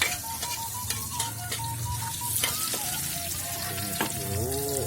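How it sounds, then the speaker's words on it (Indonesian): Shallots or garlic sauté in hot oil while kangkung is being cooked, with a steady close sizzle and scrapes of a spatula against the pan. A whistling tone and faint voices sit in the background. "Biar wangi, ini minyaknya sudah panas. Ini bawangnya ditumis dulu"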